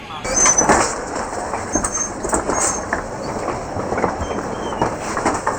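The Netaji Express bound for Kalka moves off, giving a steady rumble with faint wheel clatter that carries on throughout, heard from close by.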